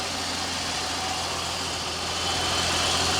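A Holden VS Commodore's 3.8-litre V6 engine idles steadily at close range, a continuous low rumble with a faint hum, no voices, growing slightly louder near the end.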